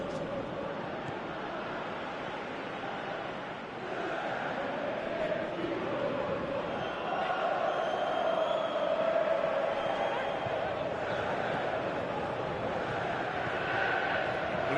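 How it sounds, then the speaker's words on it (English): A football stadium crowd murmurs and swells steadily in the background, rising slightly partway through, with no distinct cheer standing out. "you can hear how the crowd are reacting to this too"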